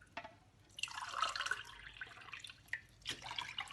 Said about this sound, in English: We're going to put like about 5 cups of water because I would like to make a bunch